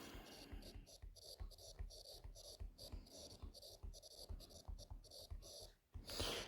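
Pen or chalk scratches steadily while a math proof is written out, a close, soft run of rhythmic strokes and scrapes with faint ambient noise.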